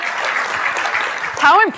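A keynote crowd claps continuously in a dense, steady patter. A voice cuts in briefly near the end as the clapping carries on.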